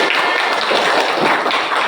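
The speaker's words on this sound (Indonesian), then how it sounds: "tepuk tangan untuk kita semuanya" A class of children clap together in a classroom, a dense, continuous patter of hand claps that stays loud throughout.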